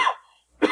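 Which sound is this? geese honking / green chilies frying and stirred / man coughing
man coughing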